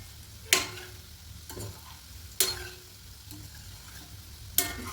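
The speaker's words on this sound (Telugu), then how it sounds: "ఇలా మనం తిప్పుకుంటూ ఫ్రై చేసుకోవాలి" Gulab jamun made with khoa frying in hot oil as they are stirred, a steady soft sizzle with a few sharp clicks of the spoon against the pan at intervals.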